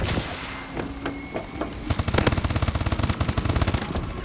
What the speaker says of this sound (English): Oh, I'm shooting like crazy.